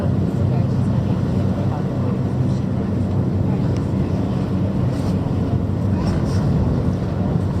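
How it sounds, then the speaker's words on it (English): Steady, loud low rumble of a ferry's engines and wind buffeting the microphone on deck as the vessel turns round at sea before entering the harbour, a continuous drone with no clear change. "It's a ferry that has to turn round before she can make the way into the harbour,"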